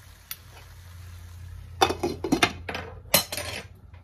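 Metal clinks and scrapes from a cooking pot of curry goat being stirred and covered with its lid, a few sharp close knocks over a low steady simmer.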